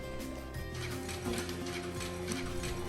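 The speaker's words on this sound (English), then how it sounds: "they will now be reverse spun back onto bobbins to be turned into cones to be used for the loom" Yarn winding machine in a fiber mill reverse spinning yarn from bobbins onto cones, a steady mechanical whir with layered humming tones and light rhythmic clicking, close and continuous.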